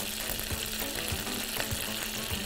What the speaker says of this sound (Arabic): هضيف على طول التوم